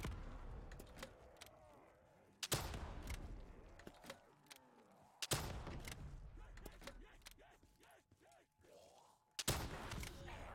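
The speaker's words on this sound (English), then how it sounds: "This rocket launcher reloads pretty quickly though. Kind of feels like a shotgun." A rocket launcher fires in Black Ops 3 zombies mode with several sharp, loud blasts spread across the stretch. Clanking game mechanisms and faint speech sit between the shots.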